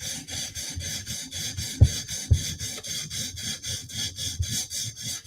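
A knife blade's bevel is drawn in steady, rhythmic strokes across a sharpening stone, a close raspy scrape repeating about every third of a second, with two sharper knocks partway through.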